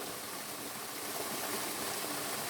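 A small waterfall at Salakot Falls rushes steadily, a continuous broadband wash of falling water close by, with no voices over it.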